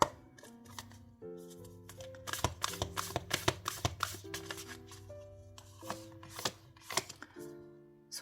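A deck of oracle cards being shuffled by hand, crisp clustered riffles and flicks repeating over several seconds, close and fairly quiet, over soft background music.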